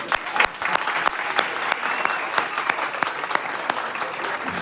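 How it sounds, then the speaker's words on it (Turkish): An audience claps continuously. Individual hand claps stand out sharply against steady crowd applause at close range. "Arkadaşlar bu kadar rakamdan bu kadar mı alkış geliyor ya?"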